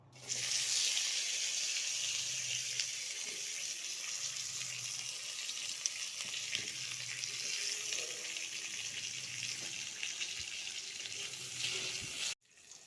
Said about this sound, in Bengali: চিংড়ি মাছ ভাজার যে তেলটা আছে এর মধ্যে আলুগুলোকে ভেজে নেব